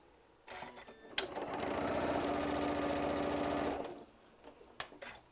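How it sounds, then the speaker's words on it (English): A domestic sewing machine stitching a quarter-inch seam across quilting fabric, its steady rapid whirring hum running for about three seconds after a few clicks, then stopping with light handling noises afterward. "we're going to start sewing 1/4 inch all the way across"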